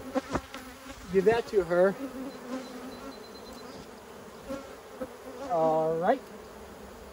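Honey bees hum steadily around an opened hive during a queen replacement, their buzz continuous and close under brief spoken exchanges, with a few louder passing buzzes swelling near the microphone.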